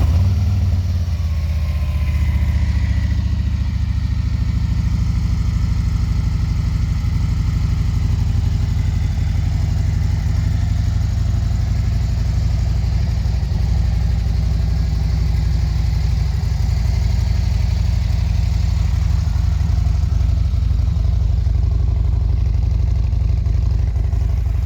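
A motorcycle fitted with slip-on exhaust tips idles steadily after firing up, a continuous loud low rumble held close with no pauses.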